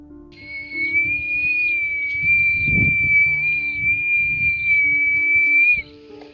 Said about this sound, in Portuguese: ouvimos um assobio alto, fino, longo e bastante assustador